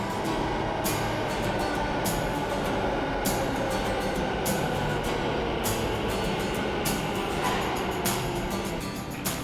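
An Ahmedabad metro train pulls out of the station, a loud steady rolling rumble with rhythmic clacks of the wheels repeating every second or so.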